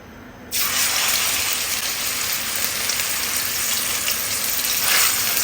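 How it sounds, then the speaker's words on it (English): Beef mince keema hits hot ghee, 2 to 3 tablespoons heated on a gas stove. A loud, steady sizzle bursts in after half a second and hisses on without a break, with no talking. "When the ghee is nice and hot, we're going to whack in the keema."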